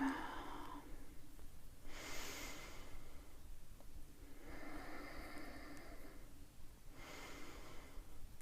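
Breathing out during a yoga twist, three slow airy exhalations spaced a few seconds apart, soft and close over a steady background hiss, with no talking.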